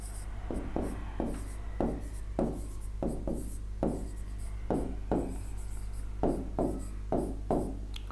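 Chalk or marker strokes on a classroom board during a Hindi grammar lesson, a steady series of short scratchy writing bursts over about eight seconds, close and moderately loud against a constant low hum.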